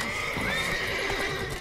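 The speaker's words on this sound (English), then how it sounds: "we need to get a horse. Let's get on Roach" A horse in the video game The Witcher 3 whinnies loudly and close, with clip-clop hoofbeats under the call.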